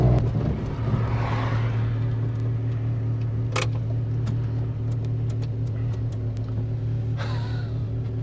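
A modified 1985 VW Golf GTI Mk2 drives along with a steady droning engine hum and cabin rumble, broken by a few sharp knocks and bangs from the stiff suspension.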